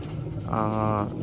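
Pigeons cooing in a loft by the door, a soft throaty coo rising midway and holding for about half a second, close and clear over low background sounds.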